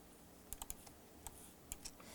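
Computer keyboard keys click softly and close by, with a handful of separate, irregular taps over a near-silent background.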